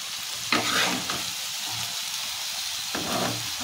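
Masala omelette pieces being sautéed and stirred through a spicy gravy in a hot pan, giving a steady close sizzle with two sharper spatula scrapes, one early and one near the end.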